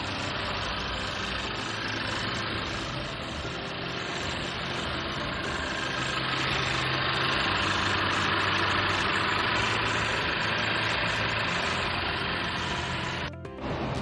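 A 2021 Honda Civic Type R Limited engine idles with a steady, even mechanical hum. It runs at a constant moderate level throughout, with no voices over it.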